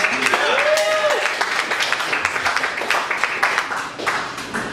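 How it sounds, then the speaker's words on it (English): Audience applause at a comedy roast fills the room loudly and steadily, with crowd cheers and whoops and a voice rising over the clapping. "I want to get a big round of applause for our hosts."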